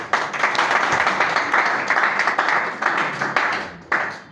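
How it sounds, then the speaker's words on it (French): An audience at a political campaign launch in Kinshasa applauds, a brisk patter of many hands with sharper individual claps that fades toward the end, fairly close and unaccompanied by speech. "On va applaudir très très fort pour eux."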